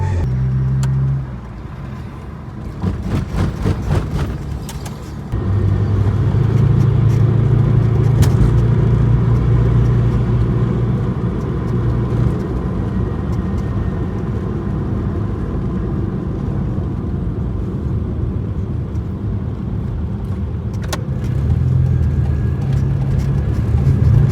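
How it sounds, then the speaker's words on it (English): A 32-year-old Proton car driving through Kuala Lumpur streets, heard as a continuous loud low road and engine rumble from inside the cabin, with a brief cluster of clicks early on and the drone steady to the end. "driving around KL in a Proton"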